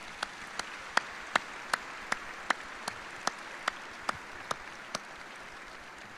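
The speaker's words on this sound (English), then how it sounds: "please join us in a round of applause for all of our distinguished guests" Sparse, evenly spaced claps, roughly a dozen sharp single hits at a steady beat over a quiet hiss, heard at a change of command ceremony at Edwards Air Force Base, with no talk.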